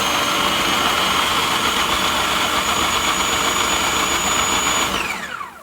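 A blender purées soup for Zuppa Toscana with grated Locatelli or Parmigiano Reggiano cheese, roaring loud and steady at close range before winding down at the end.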